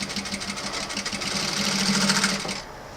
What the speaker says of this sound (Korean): 발판을 앞으로 밟게 되면 박음질,